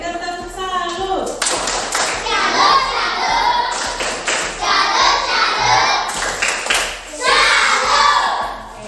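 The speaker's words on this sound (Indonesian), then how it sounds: "Berikan tepuk salut." A class of children gives a rhythmic salute clap in a school classroom, several bursts of group clapping and tapping mixed with children's voices and an adult talking.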